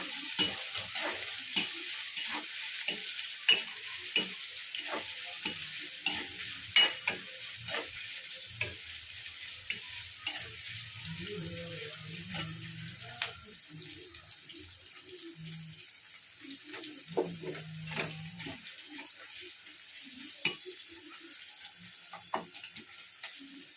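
Chicken curry stirred in a pan, with repeated scraping strokes of a spoon against the metal and a soft sizzle beneath, interspersed with a few low clunks, moderately quiet and without speech.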